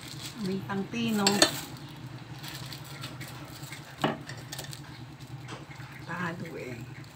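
Utensils scrape and clatter in a pan as chicken is stirred, with a couple of sharper knocks, while a voice talks faintly in the background.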